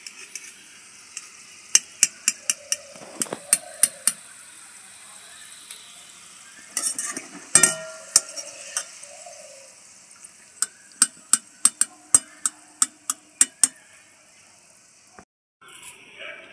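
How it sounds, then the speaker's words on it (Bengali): Shredded potatoes fry in oil, with a soft sizzle under a run of sharp metallic scrapes and clinks as the strands are stirred and lifted, close and intermittent. "একইভাবে বাদবাকিগুলো ভেজে নিচ্ছি।"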